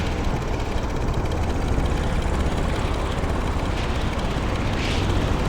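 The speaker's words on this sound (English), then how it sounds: "This helicopter is like a true dual-engine helicopter, so it can fly with one..." Dual-engine SH-29 compact naval helicopter flying in Stormworks, a loud, steady rotor and engine roar with a fast pulsing chop that stays constant and close throughout.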